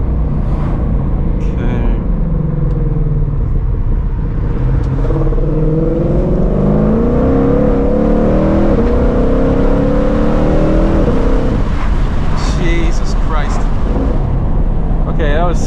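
A Ford Mustang Shelby GT500's supercharged engine revs hard and loud, its roar rising steadily in pitch over several seconds before easing off, with road rumble underneath throughout.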